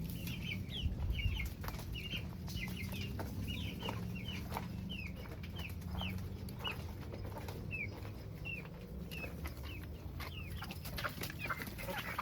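Chickens cluck softly and repeatedly while being fed in a park on a morning walk, a steady scatter of short calls at moderate distance with occasional rustling and faint background hum, no talk.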